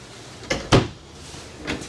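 Storage compartment door in the kitchen of a 2022 Jayco North Point 380RKGS RV, making a couple of close wooden knocks and thumps as it opens or closes, with one firmer clunk in the middle.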